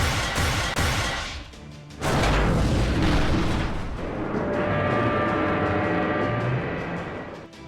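In the Fate/Grand Order game, a bunker bolt pierces Demeter's base in a heavy, booming explosion that hits at about two seconds and keeps roaring with rumbling debris and a rising whine afterward.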